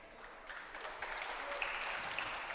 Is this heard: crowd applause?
yes